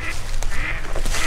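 Ducks quack nearby at forest ponds in a quick series of harsh, nasal calls over a low background rumble.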